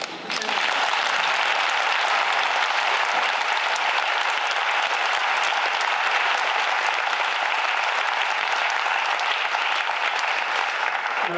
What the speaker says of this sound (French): Betty, elle mérite des applaudissements plus forts